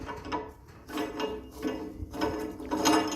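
A nut is turned onto the lifting screw of a two-post car lift, producing a rough ratcheting metal grind in repeated pulses, close and steady with no talking.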